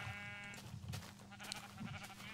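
Faint bleating from sheep in Minecraft, a few short wavering calls low in the background amid quiet game ambience.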